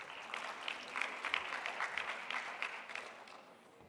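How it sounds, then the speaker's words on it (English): At a policy summit in South Africa, an audience applauds to welcome a session moderator to the stage, with moderately loud, dense clapping from a medium-sized crowd that fades out toward the end. "Round of applause as we welcome him to the stage,"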